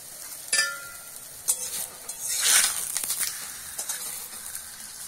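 An aloo paratha frying in a thin layer of oil in a wok gives off a soft, steady sizzle, with a few louder scraping stir sounds close by and no talking.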